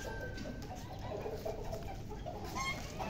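Hens cluck softly and intermittently near an Aseel rooster against a busy background of low rumbling noise, with a short louder call near the end.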